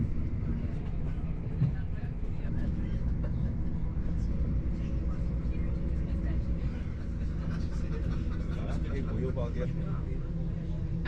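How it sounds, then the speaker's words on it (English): A steady rumble of an Iarnród Éireann train from Dublin to Westport with indistinct passenger chatter murmuring throughout, constant and moderately loud. "you can probably hear all the voices on the train"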